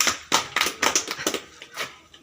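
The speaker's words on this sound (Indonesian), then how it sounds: "Tepuk tangan dulu." A classroom group claps along with a teacher during a lesson, about seven sharp, close claps in a quick rhythmic burst with no talking.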